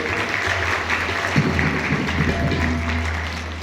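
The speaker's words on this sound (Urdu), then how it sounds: "تالی بجائے گا زور سے" A church congregation claps loudly and continuously during an Advent Sunday reflection, dense applause with a low hum underneath and no one speaking.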